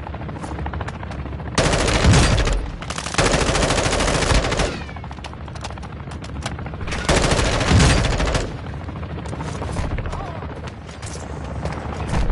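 Armour-piercing rounds fire in a video game battle: loud, sustained bursts of automatic gunfire come in two long volleys separated by scattered shots, while players talk over the action.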